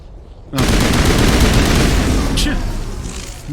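Automatic gunfire erupts in the Mass Effect video game after a moment of quiet, a loud, sustained rattle of shots with a brief sharper burst partway through.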